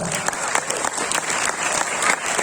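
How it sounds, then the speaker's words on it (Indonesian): An audience at an Isra Mi'raj religious gathering breaks into loud, dense applause, a continuous crowd clapping that fills the short stretch from start to finish. "Tepuk tangan dulu untuk ulama kita."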